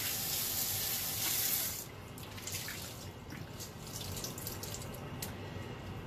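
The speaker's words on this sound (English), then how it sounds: "Gonna get it wet with warm water." Warm tap water runs into a sink to wet a microfiber cloth, a hissing stream that cuts off. Drips and small splashes follow as the cloth is handled nearby.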